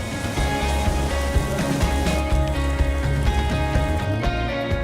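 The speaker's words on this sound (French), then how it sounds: "la météo s'invita sur le tournage avec une averse comme on n'en avait pas vu depuis longtemps" A heavy rain shower on a commercial film shoot in Casablanca pours as a steady, loud hiss of rain, continuous throughout with a faint tonal hum underneath.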